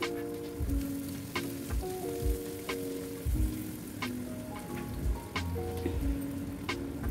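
Finely chopped medium onion frying in vegetable oil and ghee with mustard seeds and a pinch of asafoetida, a steady soft sizzle with scattered crackles and a few light ticks, close and moderately quiet, with low background tones and no talking.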